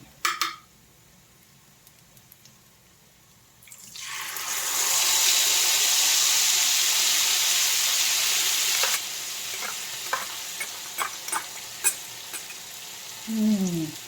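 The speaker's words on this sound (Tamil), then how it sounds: "நம்ம அரைச்ச பொடி சாந்தை வந்து நம்ம இதில் ஊற்ற போகிறோம்" Ground spice paste for a Tamil medicinal kuzhambu is poured into a pan of hot oil and garlic, setting off a loud, sustained sizzle that later eases into softer frying crackle with a few clinks near the end.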